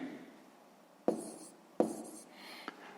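A pen or pencil writing numbers for a sixth-grade math exercise, heard as faint scratching with a few sharp taps of the tip against paper, close and quiet.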